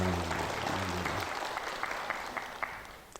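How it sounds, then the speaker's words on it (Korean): Encouraging applause from a corporate audience at a customer-satisfaction management lecture, soft and steady, with a voice sounding briefly at the start and a few sharper individual claps standing out toward the end. "모두 힘내라는 응원의 박수 한번 보내주시겠습니까?"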